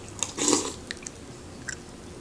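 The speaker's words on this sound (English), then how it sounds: "I got to have my cereal for this one." Close, wet chewing and crunching of a mouthful of cereal, one loud bite followed by a few softer chews over a short moment, with no talk.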